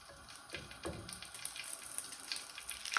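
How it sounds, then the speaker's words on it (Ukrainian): Slices of smoked pork belly (salo) fry in a pan, giving a faint, steady sizzle with small pops and crackles throughout. "Можна взяти звичайне сало, нарізаємо скибочками, так як ви любите, довільно. І будемо обсмажувати."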